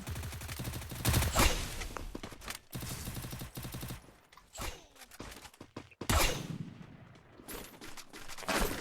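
Gunfire rings out in a battle royale video game: scattered loud shots and rapid bursts at varying distances, with brief lulls and a heavy cluster near the end.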